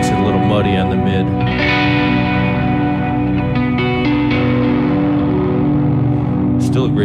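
Electric guitar played through a Warm Audio Silver Centavo overdrive pedal with its switch engaged, a thick, slightly muddy sustained tone washed in heavy reverb and echo, ringing chords filling the whole clip.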